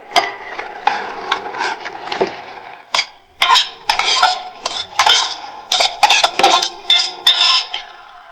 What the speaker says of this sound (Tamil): பாஸ்மதி ரைஸை வந்து பாயில் பண்ணி வச்சுருக்கோம் அதை அதில் போட்டு மிக்ஸ் பண்ண போகிறோம்